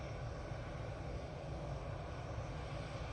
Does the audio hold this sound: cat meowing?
no